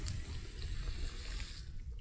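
Water gushes and splashes steadily across a waxed car panel at close range, a continuous rushing pour with no talking.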